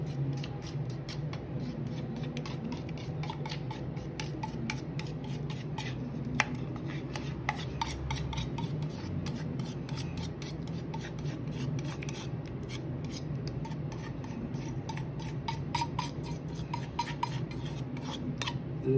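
A mango macaroni salad with mayonnaise is stirred in a bowl, giving a continuous, fairly quiet run of sticky, squelching scrapes and light utensil taps, with no voices.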